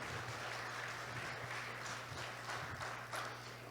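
Church congregation applauding during a sermon, a steady wash of clapping from many hands that fills the room, heard at a moderate distance and quiet overall, with a low hum underneath.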